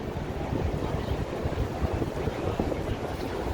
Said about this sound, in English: that's what I was trying to fix with my microphone, to fix the interference of the wind